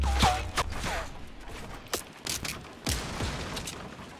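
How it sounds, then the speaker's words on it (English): Several sharp gunshots crack out from a video game's hunting rifle fight, scattered bursts with quieter mechanical clicks between them, fairly faint overall. "Where am I being shot at from?"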